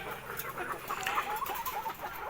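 Layer hens in a poultry farm house cluck and murmur in a soft, continuous chorus, several birds close by, with no speech over them.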